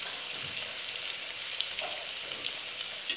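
Onion vada dough frying in hot oil gives a steady, bright, hissing sizzle with tiny pops, close and continuous, with no voices.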